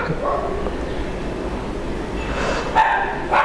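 A dog barking at close range, a few loud barks near the end of the stretch over steady background noise, with talk running throughout.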